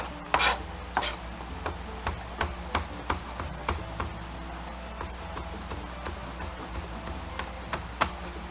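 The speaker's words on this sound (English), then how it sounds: "We're just going to rough chop it." A knife rough-chopping fresh cilantro leaves on a cutting board, a steady series of crisp, close taps about one per second, each a short sharp knock, fairly quiet with no talking.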